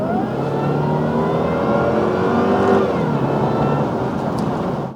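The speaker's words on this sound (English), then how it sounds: "You could never get tired of that supercharger whine." Supercharged 4.2 V8 British sports car accelerating hard, its engine note climbing steadily with a high supercharger whine running on top, loud and continuous for several seconds, with no talking.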